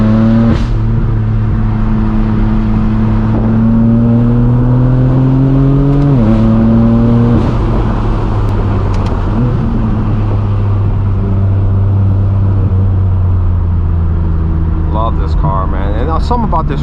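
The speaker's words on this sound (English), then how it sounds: "And I love this exhaust." A straight-piped BMW M4 F82 exhaust is heard on the move, with a loud, steady engine drone that shifts pitch as the car changes speed. Someone talks over it.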